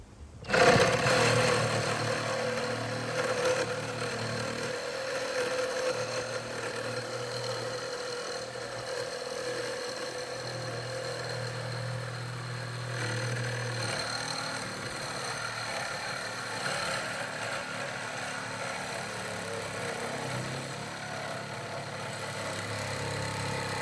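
A steady mechanical buzz of a cordless reciprocating saw, a Chinese Makita-type or a Dnipro-M, with a charged battery and new blade cutting continuously, with a constant droning tone and rough vibration throughout.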